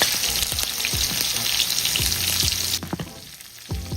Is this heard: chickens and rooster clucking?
no